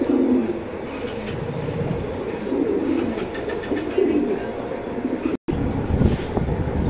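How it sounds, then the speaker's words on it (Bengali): Racer pigeons coo steadily in a loft, their low, throaty calls overlapping throughout with a soft background hiss and a brief dropout near the end. "আজকে যে কবুতরগুলো দেখালাম"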